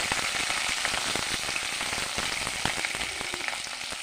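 Cardamom pods frying in hot oil in a pan for egg chilli, a dense, continuous crackling sizzle with fine popping throughout, close and loud with no talk.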